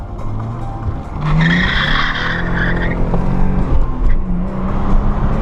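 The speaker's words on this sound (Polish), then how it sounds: "mały pisk zrobię tu" A BMW E39 with a 3-litre petrol engine spins its tires on a field track, giving a loud, close, sustained squeal over engine roar, with pitch wavering for several seconds.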